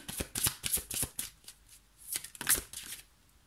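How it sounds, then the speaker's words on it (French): Tarot cards being shuffled by hand, rapid crisp riffling bursts up close in a quick uneven rhythm, with a brief pause midway before another flurry. "Et moi, je vais battre les cartes, on va voir ce qui tombe pour vous."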